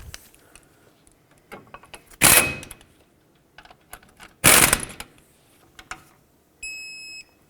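Caliper bolts on a 2001-2007 Toyota Highlander being tightened with a torque wrench, heard as two loud bursts of ratcheting clicks separated by quieter tool taps and handling, ending in a short electronic beep.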